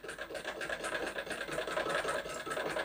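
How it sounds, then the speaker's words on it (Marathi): A sewing machine stitches a folded blouse strip slowly, its steady mechanical whirr running continuously at moderate volume with no voices. "शिलाई एकदम सावकाश देऊन घ्यायची।"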